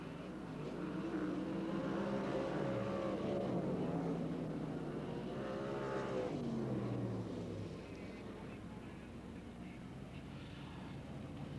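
410 sprint cars racing off the turn at Silver Dollar Speedway in Chico, California, in 1996, loud engines rising and falling in pitch as they pass, with a commentator's voice over them.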